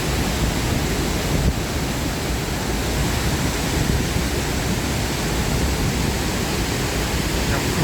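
Unbroken roar of falling water at Haew Suwat waterfall, Khao Yai National Park, loud and near, steady throughout with no talking.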